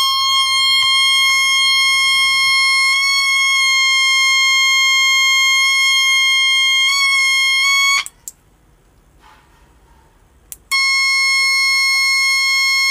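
A homemade electronic buzzer circuit blares loudly through a speaker as a shrill, steady tone with slight wavering, cutting out briefly for a couple of seconds before resuming just as loud.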